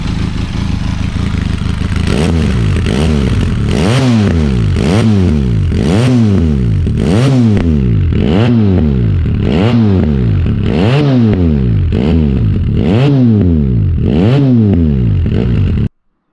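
A loud motorcycle engine with a Roadsitalia aftermarket exhaust, its dB killer removed, revs up and drops back about a dozen times in a steady rhythm, harsh and unmuffled, then cuts off abruptly.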